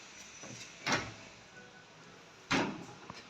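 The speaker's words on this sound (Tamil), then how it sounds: "துறவாங்க கதவை துறவாங்க கதவை" A door opened at home in Jaffna before fetching a child's bicycle, two distinct knocks or rattling thuds about a second and a half apart, close and moderately loud over quiet room noise.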